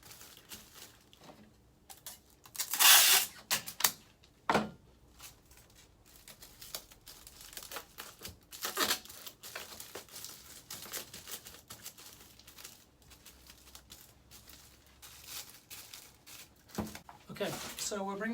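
Strips of tape pulled off a roll and pressed onto a bag and tissue wrapped around a plant being packed for shipping, giving sharp tearing and crinkling bursts between quieter handling noises.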